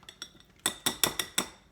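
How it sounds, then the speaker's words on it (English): Microwave-softened bananas are mashed in a bowl with a masher, giving a run of sharp clinking knocks: a few light taps, then five firmer, evenly spaced strikes. "I just mash them with the masher"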